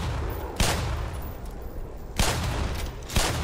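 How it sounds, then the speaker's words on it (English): Enemy gunfire in the first-person shooter Black Mesa comes as loud, sharp shots, three distinct bursts spaced about a second apart, close to the player and over a dense rumbling backdrop. "I think he's shooting me"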